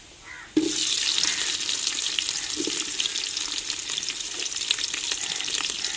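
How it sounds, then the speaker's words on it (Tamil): Sliced large onions and cinnamon bark hit hot oil in a pan for crab biryani, bursting into a loud, steady sizzle after a brief quiet start and frying on continuously with no talk. "என்ன சூடாச்சுங்க கறி மசாலா பட்டை போட்டுக்கிறோம் வெட்டி வச்ச பெரிய வெங்காயத்தையும் சேர்த்துக்கிறோம்"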